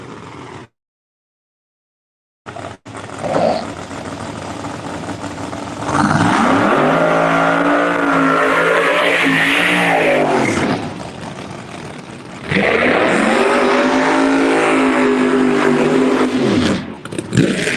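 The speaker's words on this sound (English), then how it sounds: "That Pro Charger making a lot of noise." A loud supercharged drag race car engine with a ProCharger idles at Galot Motorsports Park, then revs up hard twice with a rising supercharger whine, each rev climbing and falling back.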